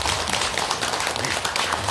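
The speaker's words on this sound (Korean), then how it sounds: "박수 한번 쳐드리고." Audience clapping at a Buddhist dharma assembly in a Korean temple, a dense, steady patter of many hands throughout, moderately loud with no talk over it.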